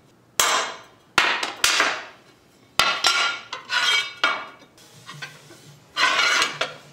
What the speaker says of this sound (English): So I'm gonna mark with a chisel where the silver stripe ends